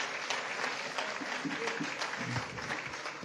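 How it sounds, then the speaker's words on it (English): Audience at a political evening event claps for the president, a dense, steady wash of many hands at moderate distance, filling the whole stretch without pause. "Can you give the president a round of applause?"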